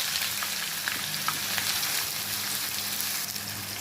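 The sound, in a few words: chopped onions frying in pan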